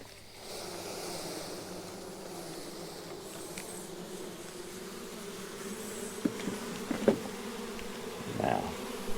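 A honey bee swarm is being caught and re-homed in late July, giving a steady, close buzzing hum of many bees that fills the whole stretch, with a few faint knocks and rustles near the end.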